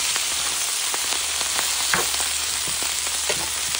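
Steady sizzling of food frying in a pan while it is stirred, with soft scraping clicks scattered through, constant and close, no voices.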